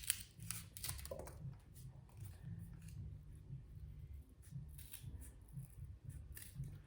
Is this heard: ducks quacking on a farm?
no